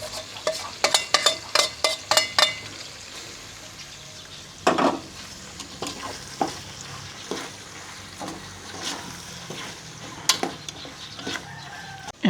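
Pork being sautéed in a pan, heard as a run of sharp metallic stirring clanks and scrapes, quick and clustered at first, then spaced out over a steady low sizzle, close by with no talking.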